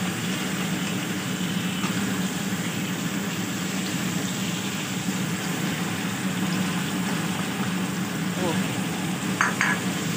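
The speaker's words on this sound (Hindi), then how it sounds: "चिकन को हमने अच्छी तरह से फ्राई करना है कि इसका कलर चेंज हो जाए" Chicken frying with onions and ginger-garlic paste in a pan, a continuous dense sizzle with occasional light scraping of a stirring spoon.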